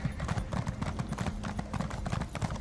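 Horse hooves clip-clop in a quick, continuous gallop in The Elder Scrolls Online, loud and close, with dense rhythmic footfalls throughout.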